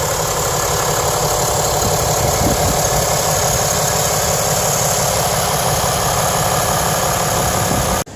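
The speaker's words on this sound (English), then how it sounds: "This engine produces 370 horsepower, and you can just tell how much quieter it is than it's ever been." A 2019 RAM 3500 Big Horn dually pickup idles with a steady, loud, even rumble and constant vibration throughout, cutting off abruptly at the very end.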